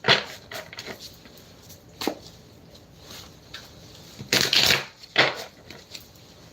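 Intermittent crisp riffling and soft papery bursts of tarot cards being shuffled, close and fairly quiet, with pauses between short flurries of card handling.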